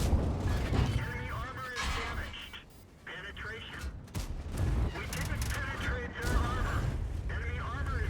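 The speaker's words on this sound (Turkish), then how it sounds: "Gördüğünüz gibi bir tane atış alarak şarjörü boşalttık." A T57 Heavy tank's autoloader emptying its clip in a video game: heavy cannon blasts and mechanical reload clanks over a dense battle din, with continuous game noise throughout.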